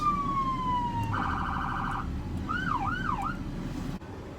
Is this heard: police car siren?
yes